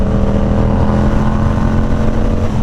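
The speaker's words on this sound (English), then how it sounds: "that's going to be the exhaust note of this bike" Engine of a Yamaha R7 sport motorcycle, loud and steady, a constant droning exhaust note with no clear revving over the whole stretch, heard alone.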